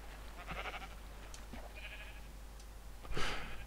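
Sheep in Minecraft bleat in short, fairly faint calls, first one near the start and a louder one near the end, with no talking.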